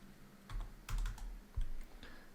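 Soft, quiet clicks of typing on a computer keyboard come in a few short irregular clusters of keystrokes with brief pauses between, close by with no voices.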